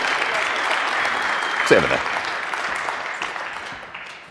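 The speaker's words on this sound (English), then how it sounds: "give him a big round of applause" A crowd at an Ubuntu community leadership panel claps as a panel member is welcomed onstage. Steady, moderately loud applause continues throughout while a voice briefly speaks partway through, and the clapping tapers slightly near the end.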